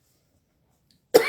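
A single short cough bursts out abruptly after near silence, close and clear, from someone about to speak at a church gathering.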